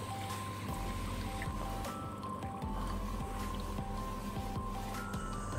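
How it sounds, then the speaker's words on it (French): An aquarium filtration pump runs with steady bubbling and rushing water, a continuous close hiss and burble with faint low hum throughout and no talking. "On branche la filtration."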